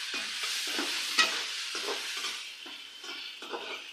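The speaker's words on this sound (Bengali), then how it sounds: "আমি হালকা ভেজে নিব" Prawns fry lightly in a pan with a soft, continuous sizzle, broken by repeated stirring strokes at a quick, uneven rhythm and one sharper clink of a utensil.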